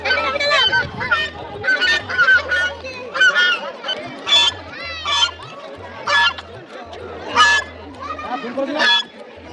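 Swans and geese at a pond honk repeatedly in loud bursts, several birds calling over one another in an irregular rhythm, with a low steady hum underneath.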